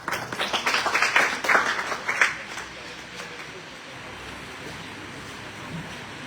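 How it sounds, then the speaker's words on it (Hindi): An audience at a poetry recitation contest welcomes the next contestant with a loud burst of applause that fades after about two seconds, leaving quiet room noise. "जोरदार तालियों के साथ स्वागत करें"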